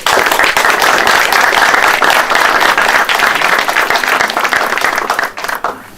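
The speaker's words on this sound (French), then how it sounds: "Merci de les applaudir." Loud, close applause from an audience at a cultural ceremony, a steady wash of many hands clapping that begins to thin out in the final second.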